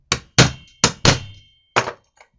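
A hammer taps a hex socket seated on a stubborn, thread-locked screw of a Chinese petrol brush cutter under repair: five sharp metallic knocks, close and loud, in an uneven rhythm, with a faint small tap at the end.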